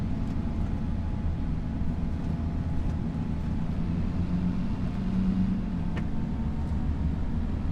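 A Zetor tractor drives in a farm restoration video game, giving a steady, low engine drone with a smooth, even rumble that runs throughout, close and continuous, with no talking.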